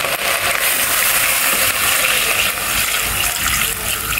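Water poured into a hot, dry pan with scorched oil while making bullfrog soup; a steady, loud rushing gush runs unbroken for the full few seconds with no talk.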